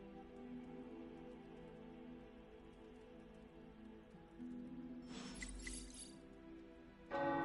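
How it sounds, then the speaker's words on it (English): Tower bells in the Marvel's Midnight Suns video game ring out over a steady background score, with a bright clanging burst arriving around the middle and another loud peal near the end. "The tower bells are ringing."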